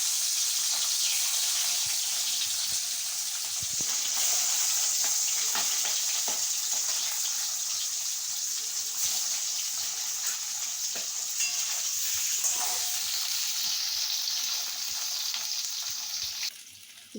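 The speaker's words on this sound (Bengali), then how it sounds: "দেখো আমি মাছের মাথাগুলো কি সুন্দর লাল লাল করে ভেজে নিয়েছি" Fish heads fry in mustard oil in a wok for Bengali muri ghonto, a steady close sizzle and crackle that runs throughout with faint stirring clicks, fading at the very end.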